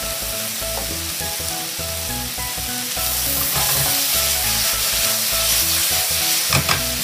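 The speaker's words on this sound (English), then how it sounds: "let's get that all frying together and all those flavors released." Pork and kimchi frying together in a pan, a steady loud sizzle with stirring scrapes throughout and a brief clatter near the end, no voices.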